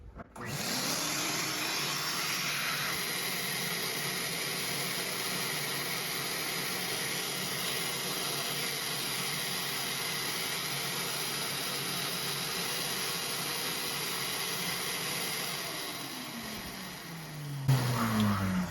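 A Ridgid shop vac pulls steady suction through a long, stiff hose fitted with a Festool drilling dust nozzle, giving a loud, constant roaring hiss that holds for the whole stretch before a brief shift near the end.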